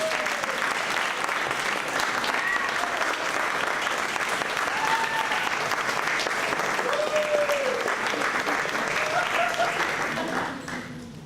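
A crowd breaks into sustained, energetic applause that keeps up for about ten seconds, with cheering voices mixed in, before it begins to fade at the very end.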